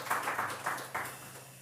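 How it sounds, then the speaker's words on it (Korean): A church congregation gives a short burst of applause, clapping in several uneven waves that fade within a couple of seconds, moderately near and fairly quiet. "우리 이경수 쌤 너무 고생하는데 박수 한번 쳐야죠."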